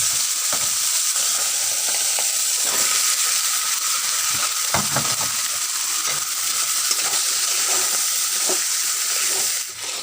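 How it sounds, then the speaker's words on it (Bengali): Okra and potatoes hitting hot oil with salt, turmeric and spices for a curry with puti fish, a loud steady sizzle with scattered clicks and scrapes of stirring, close and without speech. "এবার আমরা ঢেঁড়স আর আলু দিয়ে দেবো।"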